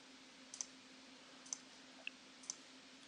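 Four crisp, faint computer mouse clicks spaced about a second apart against quiet room hum, made while working in Photoshop.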